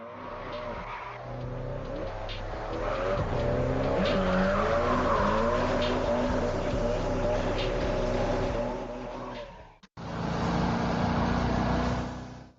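Racing-game cars drift sideways with sustained tire squeal and skidding over loud engine roar, the sound continuous and dense, briefly cutting out near the end before resuming.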